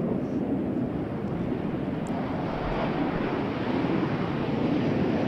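An aircraft taking off at Airshow Zhuhai 2018 produces a broad, steady roar that holds evenly for several seconds. It sounds somewhat distant and is mixed with wind buffeting on the microphone.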